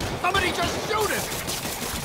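Gunfire in Marvel's Spider-Man Remastered, a dense burst of shots mixed with game music and effects, running steadily under speech for about two seconds.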